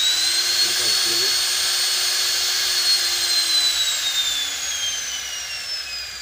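A high-speed knife polishing and sharpening tool motor, rated around 12,000 rpm, whines steadily at close range, its pitch gradually dropping as it is slowed down.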